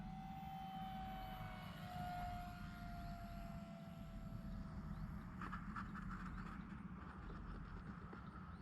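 Small RC Cherokee model airplane with a 1.2 m wingspan flies overhead on a summer night, its engine a steady droning buzz that shifts pitch as it passes, heard alone against constant outdoor background noise.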